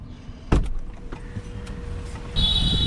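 A car door clunks open with a sharp thump as the driver climbs out, followed by small knocks and rustles, then a brighter mechanical clatter near the end.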